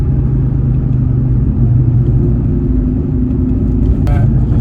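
Steady low rumble of a 2003 Ford Mustang Cobra engine as the car drives along, off the throttle, with a constant drone and no voices.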